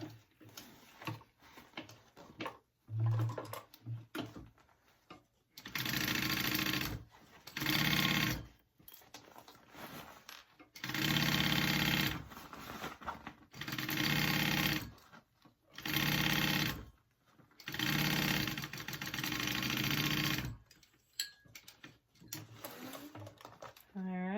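Sewing machine stitching a tote bag, running in a series of loud close bursts of rapid whirring separated by brief stops, with clicks and some talk in the gaps.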